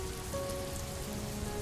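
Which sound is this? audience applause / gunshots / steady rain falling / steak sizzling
steady rain falling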